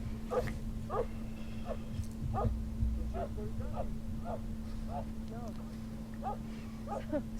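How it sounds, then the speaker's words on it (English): Large Kangal dogs trade short barks and yips in a rhythmic series, mid-distance, over a steady low hum with background voices. "So they will see each other face to face or just bark to each other."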